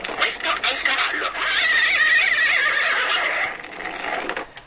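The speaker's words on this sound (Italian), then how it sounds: "Questo è il cavallo." A 1989 Mattel See 'n Say farm toy plays its recorded horse neigh, a tinny, band-limited whinny coming through the small speaker for several seconds, close and fairly loud.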